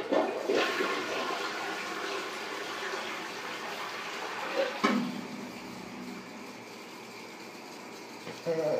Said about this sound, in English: Yep, the toilet decides to just flood itself again.